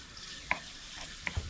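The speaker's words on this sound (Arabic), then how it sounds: "نحط الزيت نخليه يحمى الزيت، بعدين نحط الدجاج نسويه بسرعه" Chicken breast pieces seasoned with salt, paprika and black pepper fry quickly in hot oil. A soft sizzle runs underneath a few sharp clicks and scrapes of stirring, close up and with no speech.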